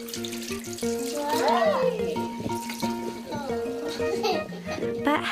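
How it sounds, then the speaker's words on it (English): A tap runs steadily as a boy and his mother wash their hands with soap at a sink, water splashing under children's chatter and light background music. "Dion and his mum are washing their hands with soap"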